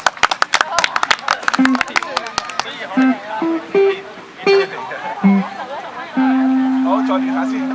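Quick bursts of clapping open a guitar sound check at an outdoor music festival, then fade as people start talking nearby in short, lively exchanges.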